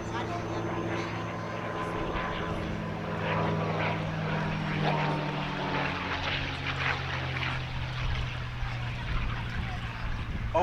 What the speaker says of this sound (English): It even is a piston engine aircraft